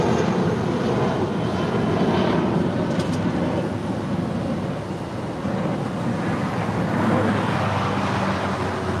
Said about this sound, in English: Our next departure here on the south side is United Airlines Flight 1635 heading to Washington Dulles.